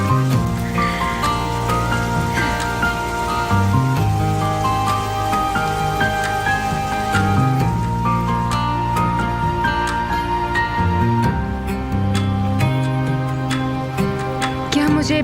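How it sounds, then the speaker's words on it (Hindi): Steady rain pours down throughout, a dense continuous patter on surfaces, heard under a loud, sustained musical score with no break in the downpour. "बारिश की भी क्या टाइमिंग है?"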